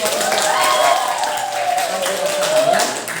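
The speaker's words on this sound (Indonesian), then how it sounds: "Tepuk tangan dulu" A classroom full of students claps together in a brief burst of applause, dense and lively, with some voices mixed in.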